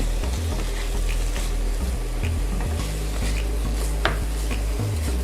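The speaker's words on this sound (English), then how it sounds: "It'll just take a few minutes just to sweat all this down." Sliced mushrooms sweating in a pan with butter, a steady soft sizzle with scraping and stirring from a utensil and occasional light clinks of cookware, close and continuous.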